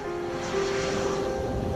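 Engines of a passenger airplane hum steadily after landing, a continuous droning tone with faint background rumble.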